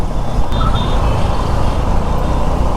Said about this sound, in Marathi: अरे बापरे, एवढे ट्रॅफिक.